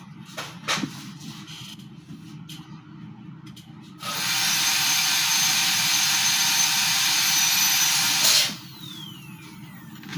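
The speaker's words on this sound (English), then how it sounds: "So here with the burr I drilled a hole." Dental burr drilling a hole through a metal matrix band: a high, steady whine starts abruptly, holds for about four seconds and cuts off, with quieter clinking and handling noises before and after.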